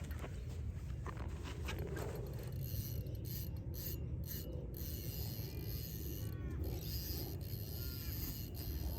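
A fishing reel's drag is loosened on a bait rig with a 1000-size reel, giving a continuous run of soft mechanical clicking and ratcheting, close by and fairly quiet, with no talking.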